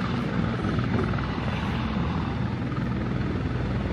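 A helicopter drones loud and steady near a tourist helicopter boarding point on a US national park trip, a continuous rotor and engine roar with no talk.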